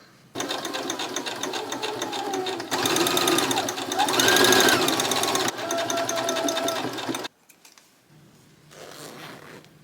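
Sewing machine stitching a denim dress near a zipper, running in several steady whirring bursts with brief pauses, its speed shifting, then stopping, followed by quiet handling sounds.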